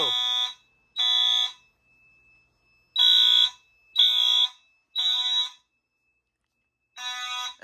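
A fire alarm system sounds during a test after a power supply fix, giving loud, even electronic horn blasts about half a second long, spaced roughly a second apart with a few gaps, and no talking.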